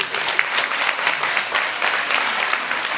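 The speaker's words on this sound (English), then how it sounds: "please give them a big round of applause" Steady, dense applause from a banquet audience honoring parents at a Hemingway rec football and cheerleader banquet, sustained evenly for the full three seconds with no pauses.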